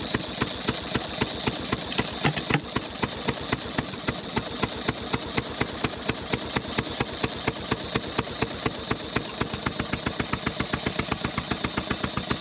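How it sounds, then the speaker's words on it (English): A 4 horsepower Lockwood Ash two-stroke boat engine runs steadily, a rapid evenly spaced popping rhythm close by and fairly loud, with no voices over it. "this is a 4 horsepower Lockwood Ash 2-stroke engine"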